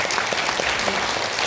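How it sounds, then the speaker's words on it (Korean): Brief, steady applause from an audience at a talk held at the National Assembly building, a close, even patter of many hands clapping throughout. "자 박수 한번 부탁드립니다"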